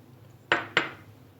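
Two eggs cracked into a bowl of powdered sugar for chocolate chip crinkle cookies: two sharp close knocks about a quarter second apart, then quiet, with no talking.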